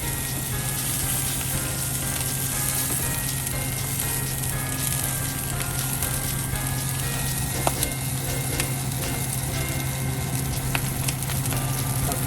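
Sausage fries in oil in a pan, a steady, continuous sizzle with soft crackling held at an even level throughout, no voices over it.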